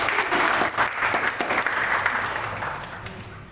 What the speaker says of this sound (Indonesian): Berikan tepuk tangan sekali lagi bagi ibu.